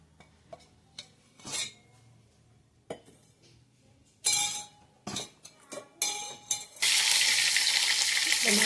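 Oil for a green soybean curry hisses into a loud, continuous sizzle in a pan, after a run of scattered clinks and clatters from utensils and cookware.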